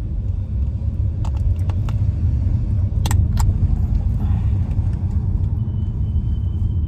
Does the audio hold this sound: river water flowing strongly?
no